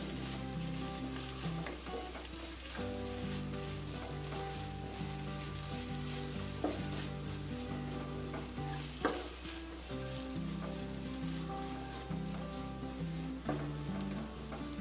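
Onion and chopped tomato frying in a pan for varutharacha chicken curry, a continuous soft sizzle with occasional stirring scrapes, alongside steady background music.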